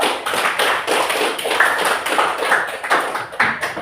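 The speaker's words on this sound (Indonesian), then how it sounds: "Oke, berikan aplaus dulu." Students applaud in a classroom: a steady patter of many hands clapping together, fairly close and loud, lasting a few seconds with no talking over it.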